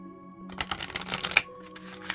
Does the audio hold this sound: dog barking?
no